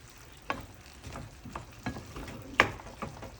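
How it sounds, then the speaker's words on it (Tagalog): Bitter gourd, spam and vegetables are stir-fried in a pan, giving a faint, low sizzle with occasional soft scrapes and clacks of a utensil being mixed through, no voices. "Okay, so it's time to add our vegetables. Yeah, mix it well."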